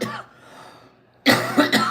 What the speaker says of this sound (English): I'm getting a cough.